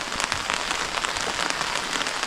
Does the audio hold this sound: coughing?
no